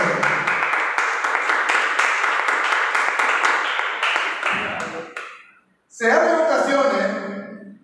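A church congregation applauds during a sermon, a dense, steady burst of many hands clapping that carries on for several seconds, fades briefly, then swells again loudly near the end.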